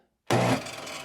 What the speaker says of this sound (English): This is a Ryobi table saw, 15 amp table saw.